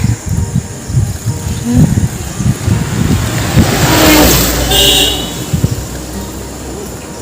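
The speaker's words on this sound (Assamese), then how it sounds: "গাড়ী আহি আছে।" A car approaching on a road in cool, rainy weather, its tyre and engine noise swelling to a peak midway and then easing off, with insects chirring and nearby clatter underneath.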